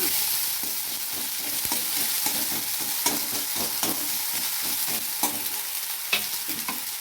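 Ginger paste cooks in a pan with a constant close sizzle while a utensil stirs and scrapes, making small irregular clicks and scuffs over the frying.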